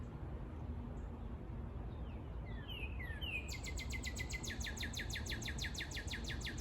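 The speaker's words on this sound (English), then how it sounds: "Really hear the birds chirping here in the late afternoon here in central Indiana" Quiet late-afternoon outdoor ambience in central Indiana with a steady low rumble, as several birds chirp and trill in rapid repeating bursts, fairly distant and soft.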